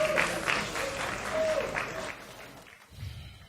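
Audience applause at a music business conference, a steady wash of clapping from the crowd that fades out after a few seconds.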